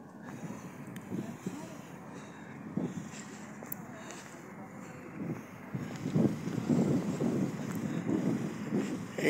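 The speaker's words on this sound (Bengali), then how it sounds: "আজকে একটু দেখি বাতাস" Gusty wind at the Basbaria ferry ghat in Chattogram buffets the microphone with low, uneven rumbling that swells and grows stronger toward the end.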